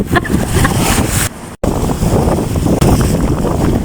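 Loud, roaring wind buffets the microphone in heavy gusts on an island shore, with a brief dropout midway and a rushing, surf-like wash throughout.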